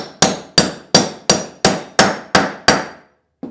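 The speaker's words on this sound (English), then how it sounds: "just do even steady whacks right there" A hammer taps a bearing into a lawn mower wheel with eight even, steady, sharp whacks close by, followed by a short pause and the start of one more strike.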